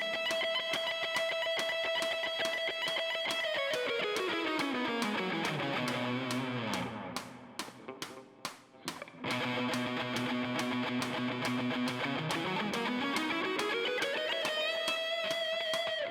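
A rapid, even stream of sharply picked notes divided into triplets, sweeping steadily down in pitch and climbing back up, loud and alone with no talking.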